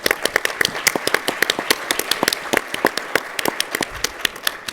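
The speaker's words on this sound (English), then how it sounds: "If you would give them a hand. Clap there for them, yes." An audience claps at a political conference, a steady patter of many hands forming sustained applause with no voices over it.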